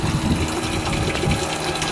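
A water pump in a striped bass holding tube runs with a churning, gushing rush of liquid, starved for water, steady and fairly loud, close by with no voices.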